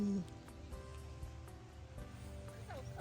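Rain falls on a camping tent at a campsite in Japan, a steady broadband patter with scattered drops close by, heard alone without talk.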